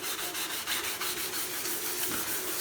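Steady hand rubbing of the painted fuel tank on a Kawasaki ZL600 Eliminator motorcycle, a close, continuous hissing scrub with a quick back-and-forth rhythm and no talk.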